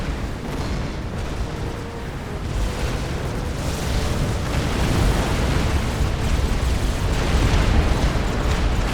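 Massed turrets fire steadily in the real-time strategy game Supreme Commander, a dense continuous roar of overlapping blasts and pops with no pauses, loud throughout.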